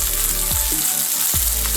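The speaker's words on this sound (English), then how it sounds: "add meat cooked in oil" Meat hisses and sizzles loudly in hot oil with rosemary and garlic, a steady close frying roar broken by a couple of brief stirring shifts.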